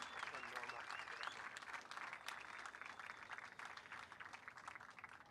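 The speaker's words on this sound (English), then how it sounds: "So the biggest applause for our players." Audience applauding for the players at a PPL San Diego event, a sustained, fairly faint wash of clapping from a crowd lasting the whole stretch.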